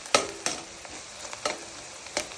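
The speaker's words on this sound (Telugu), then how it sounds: "ఆనియన్స్ ఇలా ఫ్రై అవుతుండగా కొంచెం పసుపు వేసుకోవాలండి" Onions and green chillies fry in oil with turmeric added, a soft sizzle broken by several sharp spoon taps and stirring clacks at irregular intervals.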